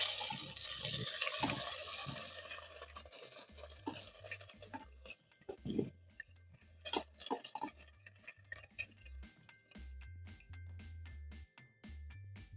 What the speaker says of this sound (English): So now you're going to drain off your rice,